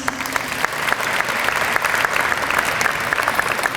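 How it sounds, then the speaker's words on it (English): Sustained applause from a large audience at a student-athlete award ceremony, dense steady clapping throughout, with no talk over it. "Give yourselves a round of applause"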